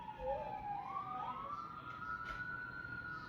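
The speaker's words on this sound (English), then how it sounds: "Please tell me you hear the ambulance." An ambulance siren passes in the distance, one long rising and falling wail that stays faint and sweeps steadily with no talking over it.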